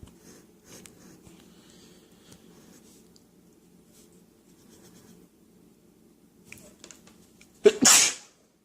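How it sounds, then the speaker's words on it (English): A single sharp sneeze bursts out near the end, loud and close, after a long stretch of quiet scratching from drawing on paper. "You need to sneeze there, obviously, as you could tell."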